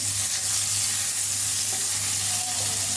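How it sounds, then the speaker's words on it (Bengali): Chopped onion fries in hot soybean oil, a dense, even sizzle that stays loud and close throughout over a low steady hum. "এখন আমি এখানে পেঁয়াজ কুচি একে একে সবগুলো উপকরণ আমি দিয়ে নিচ্ছি"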